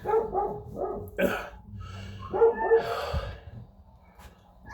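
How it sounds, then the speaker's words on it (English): Several dogs chasing a cat bark in quick, repeated bursts nearby, with yips and panting between barks before fading quieter. "The dogs keep barking."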